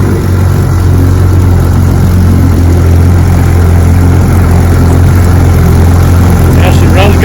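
A restored Johnson outboard boat motor runs continuously on test at the bayou, a loud, steady low droning hum close to the microphone.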